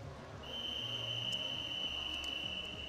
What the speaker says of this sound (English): Get that second whistle, they're stepping up on the blocks.